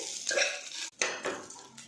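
Soybean chunks sautéing in oil inside a pressure cooker are stirred with a utensil, giving repeated close metal scrapes and clinks over a soft frying hiss, with a brief pause midway.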